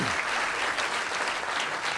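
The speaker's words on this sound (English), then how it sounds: "Please, let's have a big round of applause for that." Dense audience applause at the Andy Anselmo Awards 2004 honoring an actress, a steady even wash of clapping from a full room with no talk.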